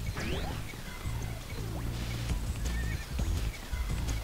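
Lu Bu's horse in a video game whinnies loudly several times over galloping hoofbeats, thick in-game music and battle noise throughout.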